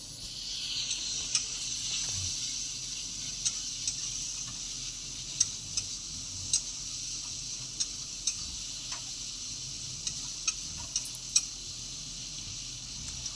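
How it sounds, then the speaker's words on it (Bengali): Spice masala for a mutton curry sautéing in oil in a pan, a steady close sizzle with frequent light ticks and scrapes from stirring. "ভালো করে এবার মশলাটা আমাকে কষতে হবে যতক্ষণ না তেল বেরিয়ে আসে আর মশলার একটা গন্ধ না বেরোয়।"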